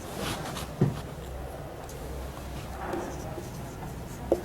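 Pen writing by hand on paper during a computer-science exercise lesson: faint, steady scratching strokes with two brief taps, close and quiet, with no talking.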